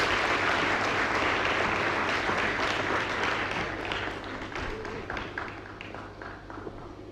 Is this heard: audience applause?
yes